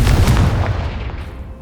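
A Confringo fire-blast spell cast in Hogwarts Legacy booms in loud and close at the start, a heavy low-end burst that rolls off and fades over about a second and a half, with no talk over it.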